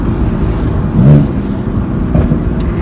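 Steady, loud engine drone from a stage 2 tuned BMW M3 F80 pulling hard under acceleration, heard from inside the car with a slight swell in the middle.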